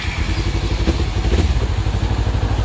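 Kawasaki Z300 motorcycle engine idling with a steady, even low throb and faint mechanical clatter, close by and continuous with no talking.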